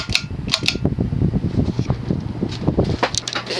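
Hunter Comfort Breeze 52-inch ceiling fan from around 1983 running on high speed, with a steady close whooshing of air and light rhythmic ticking and rattling from the blades and housing.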